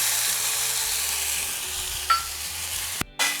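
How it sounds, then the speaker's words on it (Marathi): Tomatoes fry in oil in a pan with a steady, soft sizzle and hiss and a few stirring scrapes. A brief clatter comes near the end, and nobody speaks. "आपल्याला टोमॅटो आणि कांदाही तेलावर भाजून घ्यायचा आहे"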